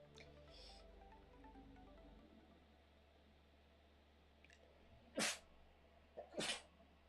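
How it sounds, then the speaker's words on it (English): A single person sneezes twice, sharp bursts a second or so apart after a quiet stretch, heard close and alone with faint low background hum. "I think I'm gonna sneeze."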